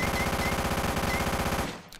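Rapid automatic gunfire from a weapon in the zombie shooter game Karantiin, a steady close burst of evenly spaced shots lasting under two seconds before cutting off, with no voices over it.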